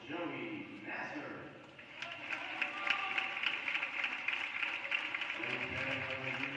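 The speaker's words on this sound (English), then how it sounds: "big round of applause for Joey Nasser" Crowd applause and cheering in a school gym for a senior boys basketball player at a Boyertown vs Norristown game, swelling and holding steady behind an announcer's voice.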